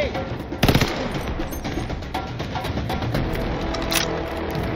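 A weapon fires in the Call of Duty Vanguard campaign, a loud burst of shots at the start and then rapid, steady gunfire rattling through the rest, with scattered bangs.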